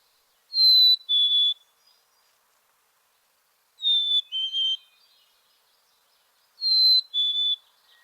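A small songbird whistles three clear, high two-part phrases, each a pure tone followed by a slightly lower note, spaced a few seconds apart against near silence.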